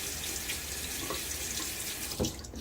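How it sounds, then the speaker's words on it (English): Water runs steadily from a bathroom sink tap in a soft continuous hiss, with a brief splash as hands bring water to the face near the end. "Splash my face one more time."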